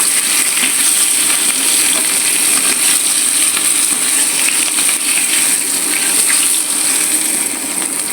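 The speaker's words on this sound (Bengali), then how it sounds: "মাছ ভাজা প্রায় হয়ে আসছে" Tilapia fish frying in hot oil, a loud, dense, continuous crackling sizzle heard up close and unbroken throughout, with no voices.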